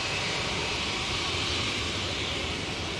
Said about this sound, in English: Right, Ryanair now coming in.